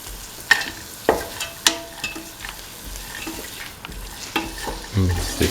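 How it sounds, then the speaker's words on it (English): Split chickpeas are stirred into a sizzling cooking mixture in a pan, with sharp scraping strokes of a utensil repeating over a steady frying hiss, close and without voices. "Mix the split chickpea into the mixture."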